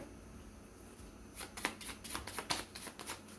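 Playing cards are drawn and flicked from a deck in a quick series of crisp, close snaps after a quiet opening, each card a sharp papery flick.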